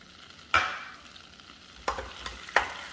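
Butter and light brown sugar melting together in a pan, a quiet low bubbling broken by a few sharp clinks and scrapes of a utensil against the pan. No one speaks.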